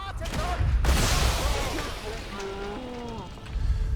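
A grenade detonates in Sniper Elite 5 on the Among the Rubble map, a loud close blast that rumbles and fades over a couple of seconds, with voices talking amid the aftermath.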